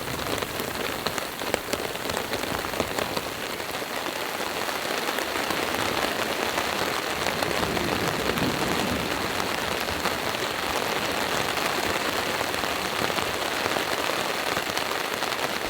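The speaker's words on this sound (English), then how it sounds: "It's been raining for numerous hours. Just non-stop, storm after storm after storm." Heavy rain pours during a camping storm in Colorado, a dense, unbroken hiss of drops drumming on surfaces, steady and loud from start to finish.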